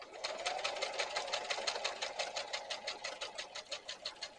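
A sewing machine stitching a hem while making an over-the-seat rifle carrier runs in a fast, even rhythmic clatter, close and steady with no talk.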